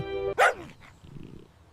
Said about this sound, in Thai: ถามจริงทำไมเองชอบเห่าจัง